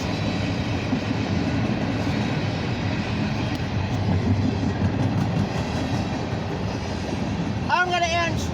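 An eastbound CSX mixed manifest freight train rolls past at Beaver Falls, Pennsylvania, a loud continuous rumble of wheels and cars close by, with a squealing wavering tone rising near the end.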